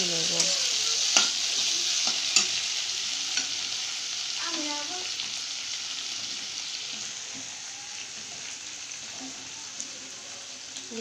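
Chicken sautéing on low heat for chicken pakora, a steady sizzle broken by scattered clinks and scrapes of stirring, fading slightly toward the end with no talking.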